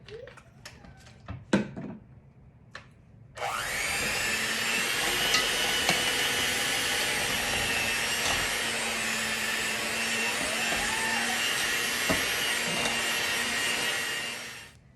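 An electric mixer beats chocolate zucchini bread batter with a loud, steady whirring drone that lasts about eleven seconds, after a few sharp clicks and knocks.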